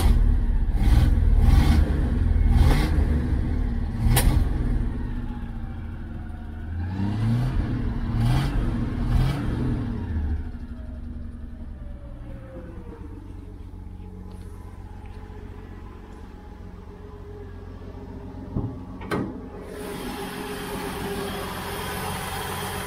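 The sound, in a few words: 1972 Chevy Nova engine running with carburetor sputtering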